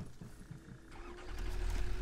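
A tractor engine in Satisfactory cranks briefly and then catches into a low, steady rumble, quiet and close.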